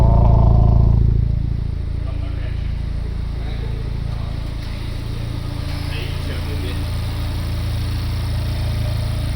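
A Honda Civic Type R FK8 race car engine runs at a steady idle after a louder opening burst, its low rumble continuous and close, with voices talking over it at times.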